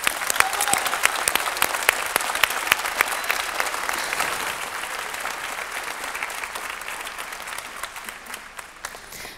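Loud, sustained applause from a large television talent-show audience, dense clapping filling the whole stretch and tapering slightly toward the end, with faint crowd noise beneath.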